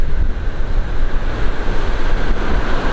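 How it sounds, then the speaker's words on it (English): Ocean waves rolling in under a strong north wind, a continuous loud roar of surf mixed with heavy wind buffeting the microphone, steady throughout with no speech. "Look at those waves."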